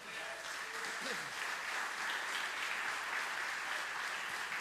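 Church congregation clapping for Jesus during a Portuguese-language service, a continuous wash of many hands heard at a moderate distance, steady and unbroken, with a brief voice rising faintly underneath near the start.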